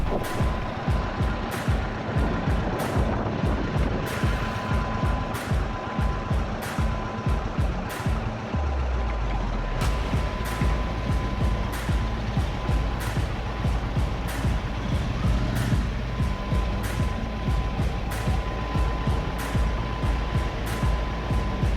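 An Indian Chief Bobber motorcycle runs on its stock exhaust, giving a steady, close engine rumble whose tone drops to a lower, even drone partway through, with no talking.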